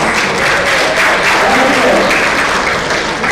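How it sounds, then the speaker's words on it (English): An audience at a school district board meeting gives designated teachers a big round of applause, a dense, continuous wash of clapping that stays loud and even throughout. "We give them a big round of applause."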